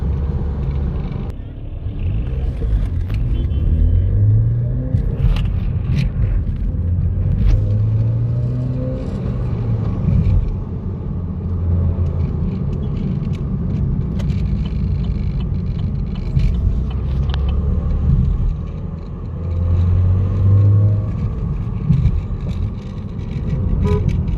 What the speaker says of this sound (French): le turbo se déclenche à 2500 tours minute